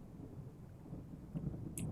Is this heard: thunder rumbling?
yes